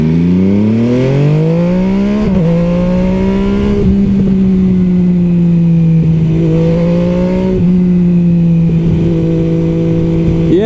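An MV Agusta Superveloce 800 sport motorcycle in sport mode drones steadily and loud, rising in pitch as it accelerates, with brief dips at gear changes before pulling again.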